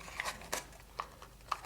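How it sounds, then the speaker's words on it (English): Origami paper folded into a water bomb tessellation makes soft, crisp pops and crinkles, several brief quiet snaps spaced out and heard close up with no talking. "You can probably hear the paper when it pops up."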